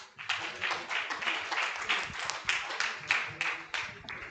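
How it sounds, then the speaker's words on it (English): An audience at a high seas governance forum claps steadily for a panel moderator, a dense, moderately loud round of applause lasting several seconds with no speech over it. "Let's give her a round of applause"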